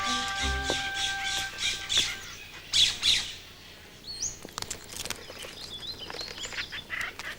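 Jays squawk near a woodpeckers' acorn larder, giving a run of loud, harsh repeated calls at close range, then scattered fainter squawks and rustling as the birds move about.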